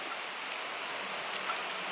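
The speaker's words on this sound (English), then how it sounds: "You hear the rain?" Steady rain patters in a constant soft hiss, with a few individual drops standing out.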